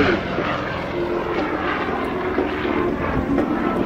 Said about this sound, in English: This airplane has a tremendous vertical penetration, as you can see, as he goes up.